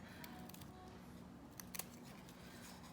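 Quiet, crisp snips of scissors cutting paper, a few short cuts spaced irregularly over steady low background hum.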